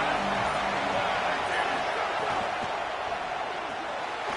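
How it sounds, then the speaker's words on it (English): Dense, steady roar of a large football stadium crowd, loud and continuous throughout with no clear breaks. "This crowd bringing the energy and noise early."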